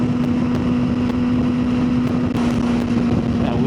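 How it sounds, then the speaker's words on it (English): Hard wind roaring over a rider on a moving motorcycle, with a steady engine hum underneath and occasional sharp buffeting gusts, loud and continuous throughout. "And we are getting thrown around by the wind like a rag doll. This wind's real hard."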